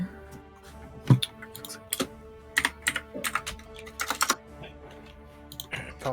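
Someone types on a computer keyboard, with irregular clusters of sharp, close clicks and a few harder key slams over a quiet background hum.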